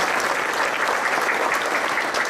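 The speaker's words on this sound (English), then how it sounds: "let's give them an applause as well for doing that" Steady, dense audience applause at an awards ceremony honoring distinguished staff, a continuous wash of many hands clapping without pause.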